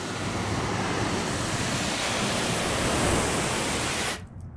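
A steady loud hiss of water spraying onto car paint coated with Turtle Wax Hybrid Ceramic Spray Coating continues for about four seconds, then cuts off abruptly.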